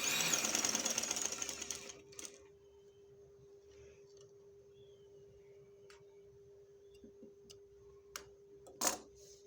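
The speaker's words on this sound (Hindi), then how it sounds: "ये देखें जी, इस तरह से आपने यहाँ से जो है वो इसकी सिलाई शुरू करनी है।" Sewing machine stitching piping, a quick burst of fast mechanical stitching at the start, then quiet with a few isolated clicks and taps.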